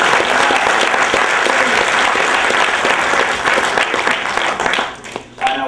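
Sustained audience applause for contestants at a live hot-pepper challenge show, a loud dense wash of clapping that tapers off near the end.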